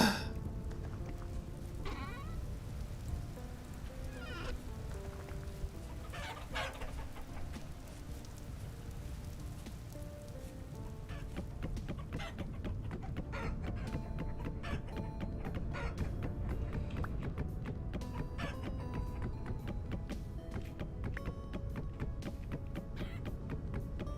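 Chickens clucking in the video game Vintage Story on a homestead, scattered clucks and bleat-like calls over a dense, steady game ambience, with no talking.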